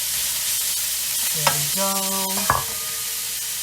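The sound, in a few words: beef browning in a frying pan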